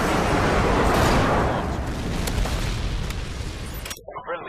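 A Predator missile strikes in the Modern Warfare 2 video game, a loud booming blast with a long rumbling tail that cuts off abruptly near the end, followed by faint crackles.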